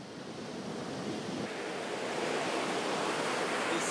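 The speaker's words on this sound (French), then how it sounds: "il y a des vagues." Ocean surf roars in a continuous broadband wash on a windy beach in India, swelling slightly louder toward the end, with wind noise mixed in and no voices.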